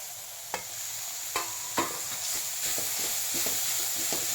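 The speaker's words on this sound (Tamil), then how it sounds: "கீரையை ஆட் பண்ணிவிட்டு மூடி போடாமல் நல்லா இப்படி வதக்கணும்." Banana flower and drumstick greens stir-fried in an open pan, a steady sizzle broken by several sharp scrapes and clinks of a spatula against the pan, up close with no talking.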